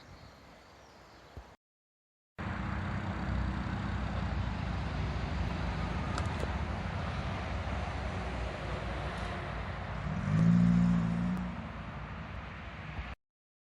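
A 1988 Ford Fiesta Mk II drives along steadily, its engine and road noise a constant drone from inside, briefly swelling in pitch partway through.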